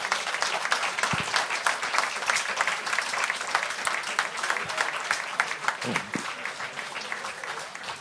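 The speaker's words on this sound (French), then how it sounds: "Donc on peut l'applaudir déjà pour son travail." An audience applauds the sculptor of a Son Goku and Nappa statue at a live figure event. Many hands clap steadily and fairly close by for about eight seconds, with a few low thuds mixed in.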